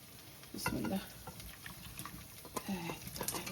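Dried lentil dumplings (dal bori) frying in hot oil, a steady close sizzle with a few stirring scrapes and brief louder bursts.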